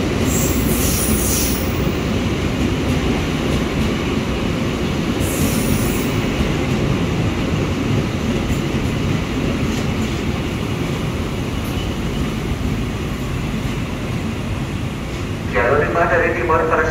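A commuter train pulls into Bekasi station in Indonesia, a steady loud rumble of railcars and wheels with occasional squeals, continuing throughout with a brief high screech near the end.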